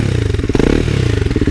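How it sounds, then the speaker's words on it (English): A brand new engine on a Triumph Scrambler 400X motorcycle rumbles close by in a rapid throbbing idle, briefly rising with a rev before settling back. "That is the sound of a brand new engine in my Scrambler 400."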